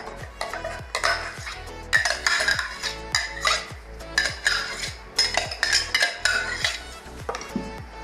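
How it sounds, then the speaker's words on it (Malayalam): Blended palm fruit (nungu) being added and stirred into sweetened milk in a pot, with repeated close metallic clinks and scrapes of a spoon against the vessel, in an uneven rhythm. "ഞാൻ മിക്സിയിൽ അടിച്ചു കൊണ്ടുവന്ന പനനൊങ്ക് ഞാൻ ഈ പാലിൽ വീഴ്ത്താം"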